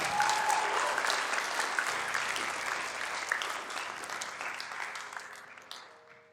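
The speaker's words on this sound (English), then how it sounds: "Let's give Eric a round of applause" Clapping fills the hall for Eric, newly recommended for black belt at a martial arts ceremony, starting strong and dense, then gradually fading and thinning over about six seconds.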